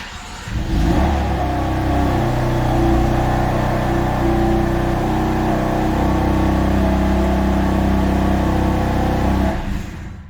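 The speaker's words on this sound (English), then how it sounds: "I'm gonna go ahead and make sure the car still starts" A BMW F80 M3 engine fires up after plug work near a thermostat, catching with a loud burst, then holding a steady, rumbling idle and light revs for several seconds before cutting off, close up with no talk.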